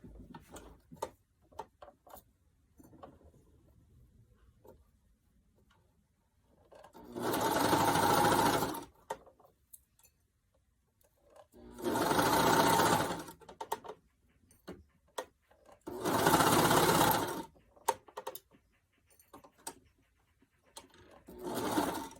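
A sewing machine stitches binding onto fabric in three loud bursts of rapid whirring, separated by quiet stretches of faint clicks and handling sounds.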